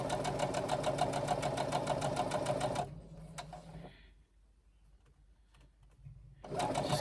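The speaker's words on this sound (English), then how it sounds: "Just keep sewing." A sewing machine sews fabric folded around piping cord for a laptop bag, a loud fast rhythmic needle chatter that stops for a few quiet seconds, then starts again.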